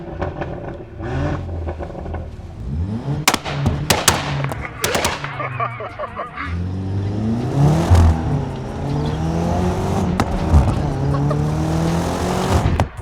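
A tuned SEAT Leon Cupra R engine, stage 2 at about 470, revs hard and repeatedly, rising and falling in pitch with sharp pops and crackles, loud and close, with some background noise throughout.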